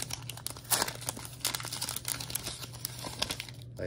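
Topps baseball card packs from a 2024 Update blaster box being torn open, the foil wrappers crinkling and crackling close by in dense, irregular bursts with sharp tearing rustles throughout.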